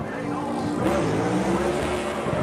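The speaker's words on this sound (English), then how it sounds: "Christopher Bell doing an Alan Kulwicki style Polish victory lap to salute the crowd" Christopher Bell's NASCAR Cup race car rumbles through a slow victory lap before the crowd, a brief continuous engine roar with wavering pitch, fairly close and steady.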